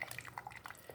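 Radiator coolant spills and drips from a motorcycle radiator onto the floor, a short burst of wet patters and drips heard up close.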